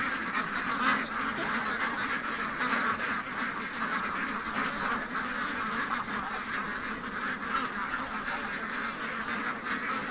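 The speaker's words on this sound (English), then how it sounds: "They're penguins." A crowd of penguins calls continuously, a dense chorus of honking, quacking-like cries that overlaps without pause.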